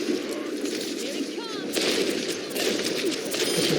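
Rapid gunfire in an online shooter match, heard as a steady stream of crackling shots and sharp cracks at moderate volume over dense game noise, with a brief whistling sweep midway.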